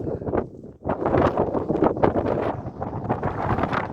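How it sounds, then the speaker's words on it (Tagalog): Strong gusty wind at Ancient Corinth, Greece, buffets the microphone with a loud, rumbling roar that surges and dips continuously. "Lakas ang hangin."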